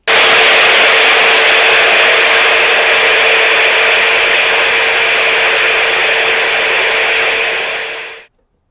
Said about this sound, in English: Swivel it so you can suck up all of the dust and dirt on underneath the base.